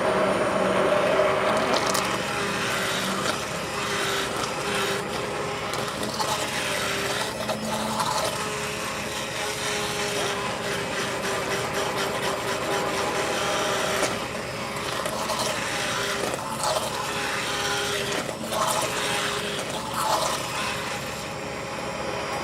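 A blender purees creamy potato and leek soup, producing a loud, steady whirring churn with motor hum and intermittent gritty, sloshing bursts that run the whole stretch without any talking.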